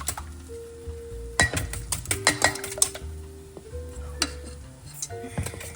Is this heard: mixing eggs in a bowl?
yes